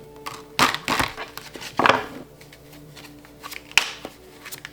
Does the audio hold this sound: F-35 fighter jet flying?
no